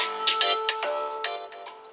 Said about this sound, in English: Who's this ringing me?